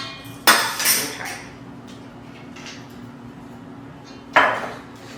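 Brownie batter ingredients are mixed in a bowl, with two sharp, close clanks of a utensil against the bowl, one near the start and one near the end, and only quiet room sound between them.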